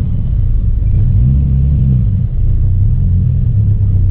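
A Nissan 240SX with a swapped-in 2JZ engine idles and creeps backward in reverse, a loud deep rumbling drone with slight rises in revs, close and steady without talk.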